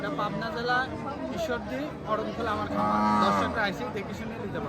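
Cows low amid a busy crowd, with several moos rising over a steady murmur of voices and chatter at a crowded livestock market in Aronkola, Bangladesh.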